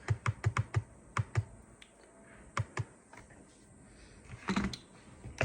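Someone types on a computer keyboard. A fast run of crisp clicks is followed by a few scattered taps and a short final flurry, quiet and close in a still room.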